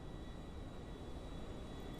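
Fast airplane flying in the GTA 5 video game, a steady broad engine roar and rushing drone holding constant and moderately loud for two seconds with no talk.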